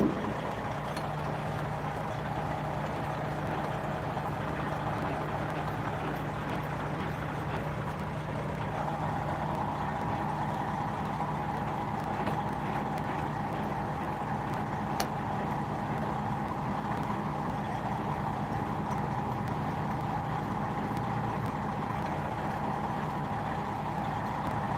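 A semi truck's engine rumbles steadily and close, with a low heavy drone that lifts slightly partway through as it prepares to pull out, with no talking.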